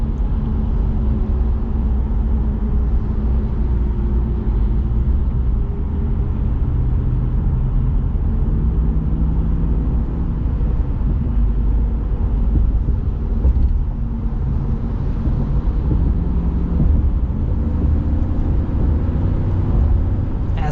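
A 2026 Ram Tradesman Power Wagon with solid front and rear axles drives along, its engine giving a steady low rumble mixed with road and cabin noise, heard from inside the truck without talk.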